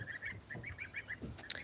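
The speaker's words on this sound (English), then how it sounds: "he already is gobbling" A turkey gobbles on a farm, a quick burst of rapid warbling calls repeated in a row, moderately distant and mixed with other fowl and farmyard noise.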